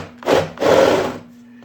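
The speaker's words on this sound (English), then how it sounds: "Oh, we got to go on drill mode." A cordless drill fitted with a Forstner bit bores into wood in a woodshop, two grinding bursts of cutting, a short one then a longer steady one, close and fairly loud.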